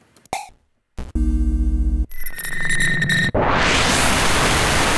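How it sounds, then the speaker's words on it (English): A string of synthetic electronic tones and chirps gives way to a loud, steady hiss of white noise that fills the rest of the clip. "I want some effects or some white noise in the background of the track"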